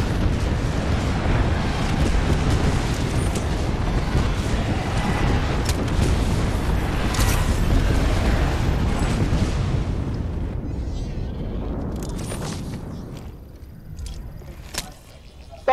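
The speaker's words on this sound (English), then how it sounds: "he dropped the artillery ring around me" An artillery bombardment in Apex Legends, a dense, sustained barrage of rumbling explosions for about ten seconds that thins out and fades, with a few sharp pops near the end.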